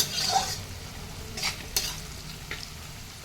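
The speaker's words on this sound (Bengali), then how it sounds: "গাজর আর বিনস ভাজা করে নিয়ে এর মধ্যে কাজু বাদাম আর কিশমিশ দিয়ে দিয়েছি" Carrots, beans, cashews and raisins fry in a pan for fried rice with a close, continuous sizzle. A few crisp spatula scrapes cut through near the start, and the hiss keeps going steadily afterward without voices.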